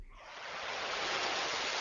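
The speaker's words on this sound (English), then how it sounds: "So look at that pink noise by itself, almost sounds like the ocean." Pink noise from a synthesizer, a smooth broadband hiss resembling ocean surf that fades in quickly and then holds steady and even, soft and alone with no voices.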